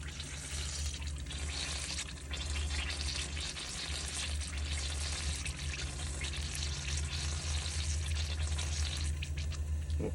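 Bubbling and gurgling water from a Hygger aquarium pump line as trapped air bleeds out, a steady low churn with a constant hum underneath, close and fairly quiet, with no talking.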